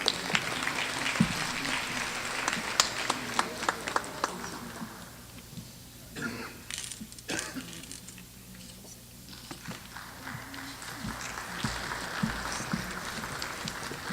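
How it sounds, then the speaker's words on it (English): Audience applause for students at a university honors recognition ceremony, a broad patter of many clapping hands that swells, thins in the middle, then builds again, heard at moderate distance across a hall. "A round of applause for those students, please."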